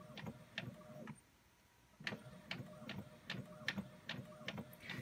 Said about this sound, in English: we just have to be patient as this works its way through the printer